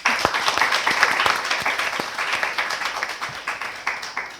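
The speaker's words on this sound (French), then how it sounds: "Alors, charmant public, vous êtes là? Oui. Applaudissez." Studio audience applause on a television show, a lively round of many hands clapping that stays full and then gently tapers over several seconds.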